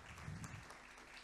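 An audience at a regional round-table conference on patients' rights welcomes panel speakers with applause, a soft, continuous broadband wash of clapping heard faintly from a distance, with a low murmur of voices underneath.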